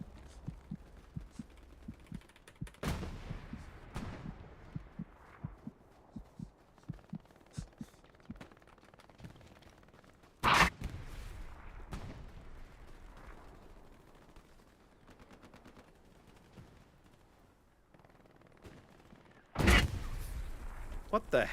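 Sudden loud blasts in the Hell Let Loose war game set in the back alleys of Tobruk, with a few heavy booming impacts spaced apart amid a steady low heartbeat-like thumping and distant battle rumble.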